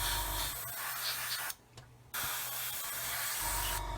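Airbrush spraying paint onto a Revell/Zvezda scale model of the Topol SS-25 Sickle missile launcher, a steady close hiss that stops briefly midway and then resumes.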